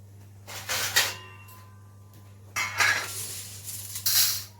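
Kitchen pots and metal utensils clanking in short bursts while lentils are set on to cook, fairly close, with quiet pauses between the clatters.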